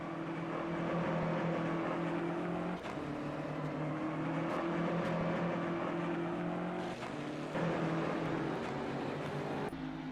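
GT3 race cars, including a pair of BMWs, roar around the Autódromo Internacional de Curitiba in a racing video game, their engines droning steadily and loudly with sustained pitch and brief shifts as cars pass.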